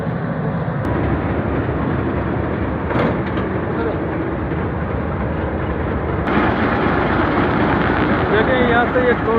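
Low, steady rumble of a railway locomotive engine running at Bolan valley station, continuous and close, with someone talking over it.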